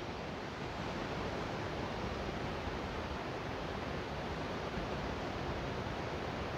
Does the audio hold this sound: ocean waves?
yes